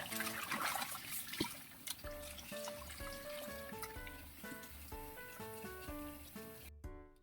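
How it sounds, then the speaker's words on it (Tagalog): Water poured into a pot of pork for boiling, a faint, continuous trickling splash with a steady musical tone running beneath it. "Lagyan tayo ng tubig"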